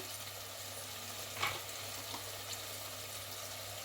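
Chicken frying in a pan while cooking chicken pulao, giving a soft, steady sizzle throughout with one brief clink of a stirring utensil partway through and no voices.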